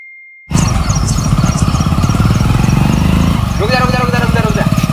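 A motorcycle engine starts abruptly and runs with a rough, pulsing putter at close range, a voice rising briefly over it near the end.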